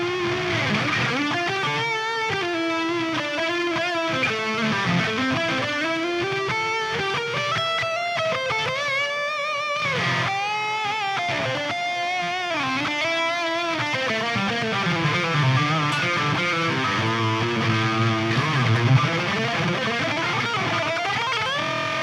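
An electric guitar plays a heavy metal riff through a Line 6 Pod Go with plate reverb, distorted and sustained, with shifting chugging notes and bends over about twenty seconds, loud and continuous with no voices.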